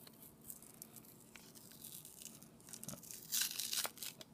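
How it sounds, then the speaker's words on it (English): Junk mail package being peeled open by hand, with close tearing and crinkling of paper or plastic that builds to a louder rip near the end, no talking. "I think I might be able to peel it open."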